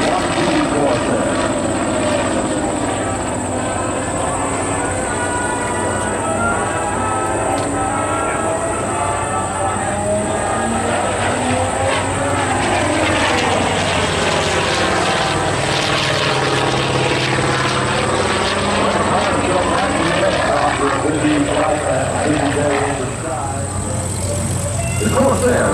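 An FG-1D Corsair propeller fighter flies at an airshow, its loud continuous engine roar sweeping past with a shifting drone, while an announcer talks over the noise.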